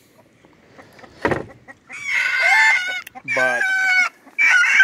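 Chickens in a backyard coop cluck and squawk in loud, close bursts, with a sharp knock near the start and a man's brief word beneath.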